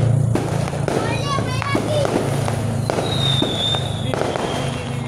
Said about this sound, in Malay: Rakam bunga api.